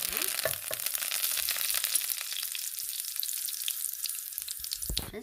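Mustard seeds fry in hot oil for a raw mango chutney, crackling and popping loudly and continuously close up.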